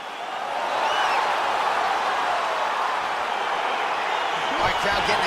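A large arena crowd in the EA Sports UFC 4 fighting game roars steadily and loudly as a bout begins, a dense continuous wash of cheering with a faint voice near the end.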